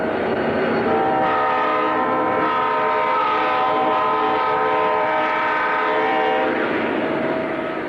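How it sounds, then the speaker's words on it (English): A long Penn Central freight of 88 cars climbs Crescent Mountain out of Altoona, Pennsylvania, its horn sounding in a loud, sustained blast over a steady rumble of engines and rolling cars. "Penn Central's daily TH3A freight headed up Crescent Mountain out of Altoona, Pennsylvania."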